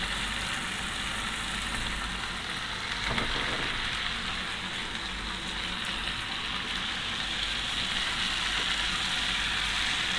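Eggs sauté in a spiced masala in a frying pan for a Bengali egg korma, giving a steady, close, broadband sizzle that continues without a break, with a brief stirring scrape partway through.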